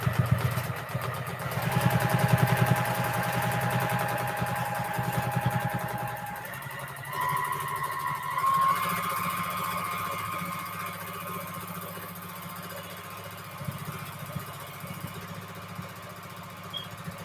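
A home sewing machine stitches feather quilting designs, its motor humming steadily up close. The pitch shifts as the speed changes partway through, and no one speaks.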